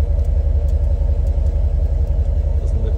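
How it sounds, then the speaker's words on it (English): A Range Rover L322 with the 4.4 TDV8 diesel idles steadily from behind, with a deep, even low rumble and no change in pitch. "Engine's still running."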